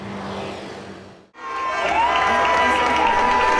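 Colombian football fans in Santander cheer and shout after Colombia's World Cup win over Japan, a loud crowd roar that briefly drops out and then returns at full strength.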